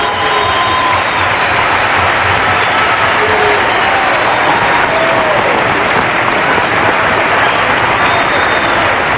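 A bowling championship crowd applauds and cheers loudly and continuously, a dense wash of clapping with occasional whistles and shouts rising above it.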